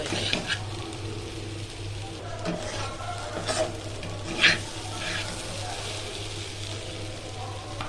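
Egg curry masala sautéing in a pan sizzles continuously, with spoon stirring and scraping strokes and one brief louder clatter partway through.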